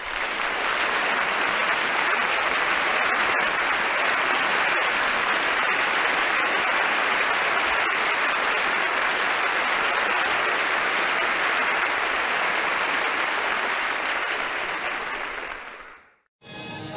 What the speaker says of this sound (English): the round of applause that she might assume is just the normal round of applause